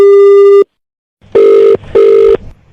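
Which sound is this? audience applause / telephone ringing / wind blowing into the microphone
telephone ringing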